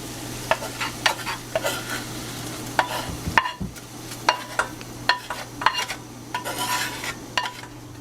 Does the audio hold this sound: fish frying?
yes